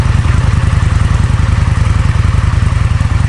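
An Indian FTR 1200 motorcycle fitted with an Akrapovic exhaust idles steadily, its deep rapid exhaust pulses loud and close throughout with no other sounds.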